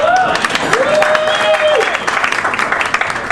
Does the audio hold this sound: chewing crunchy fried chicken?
no